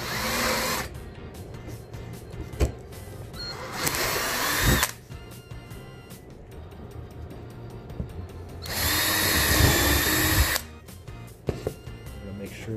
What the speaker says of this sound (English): So the first thing we're going to do is drill through so we can mount these letters.